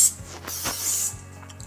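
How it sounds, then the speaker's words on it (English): Nonstick cooking spray misted onto a waffle iron for red velvet waffles, a couple of short hissing bursts close by over faint kitchen clinks, with no talking. "We're going to do a little nonstick spray."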